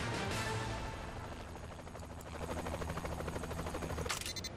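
Helicopter in the video game Saints Row: The Third, a steady loud rotor and engine drone with game effects and bursts layered over it, rising toward the end.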